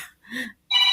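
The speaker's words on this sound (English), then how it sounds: "I'm sorry, my phone's ringing" A phone ringing with short electronic ring bursts, two tones separated by brief silences, loud and close, sounding alone without talk.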